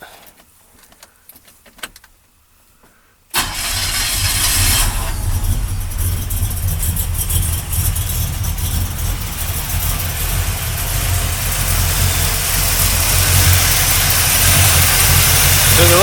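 A 1972 GMC Sierra Grande pickup engine cranks and catches after a quiet moment, then settles into a loud, steady, rumbling idle with a slight exhaust header leak, close by and running on without pause.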